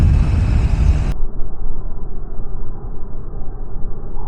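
A Suzuki GSX-R motorcycle engine pulls in fifth gear with a loud, continuous low rumble and rough throb, full-band at first, then muffled for the rest.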